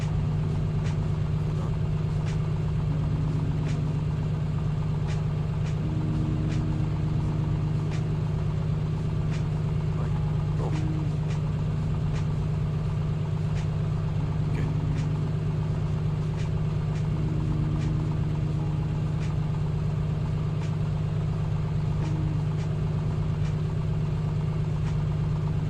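Aircraft engine idling at 1,000 RPM in Microsoft Flight Simulator 2024, a steady, continuous low drone with a constant tonal hum and faint periodic ticks, unchanging throughout and with no talk.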